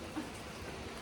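Rain falls steadily around a barn during siding work, a soft, even hiss of drops that is faint and continuous, with no talking.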